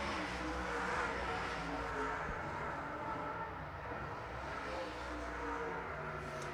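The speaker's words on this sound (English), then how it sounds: "White flag flies this time by for your race leader, Steve Stoltz." Late model race cars circling Arizona Speedway during a February 2020 SWDRA heat race, a steady, dense engine roar that swells slightly without letting up, heard from trackside.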